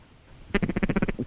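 Nearby ducks quacking during a late-season waterfowl hunt in Alberta, a quick run of about eight loud, evenly paced quacks that rises out of quiet background air.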